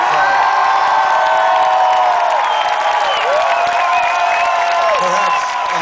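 A concert crowd at a rock show cheers and whoops loudly and continuously, a dense roar of many voices with some high shouts riding on top.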